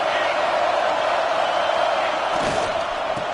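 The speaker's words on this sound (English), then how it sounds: "The Buckeye crowd alive on third down." A large stadium crowd roars in an NCAA college football video game, a dense, steady wall of cheering and shouting that stays loud throughout with a few sharper thuds near the end.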